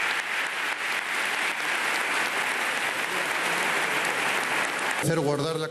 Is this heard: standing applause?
yes